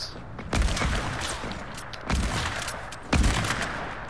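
Gunfire in Fortnite, three loud bursts of rapid shots about a second and a half apart, each a dense crackling volley sustained briefly at close range.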